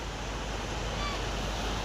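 Sea surf rolls on a beach where people are playing, a soft, steady wash of broadband noise heard from a distance, with no distinct voices.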